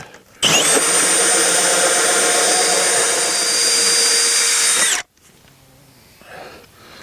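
A power drill bores steadily through plywood during a basement bathroom exhaust vent installation, loud and close for about four and a half seconds before cutting off abruptly, followed by quiet room noise.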